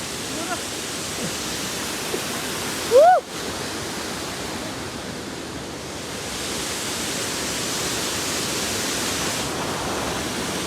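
The Naubahini waterfall in Shaulibang, Pyuthan roars with a steady broadband rush that is loud and continuous throughout, with one brief higher whistle-like sound near the start.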